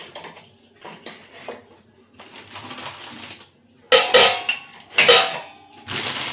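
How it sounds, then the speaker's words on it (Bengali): Freshly brewed tea strained into a cup, heard as bursts of clinking and clattering metal and ceramic between brief quiet gaps, close and fairly loud. "চাটা ছেঁকে নিই।"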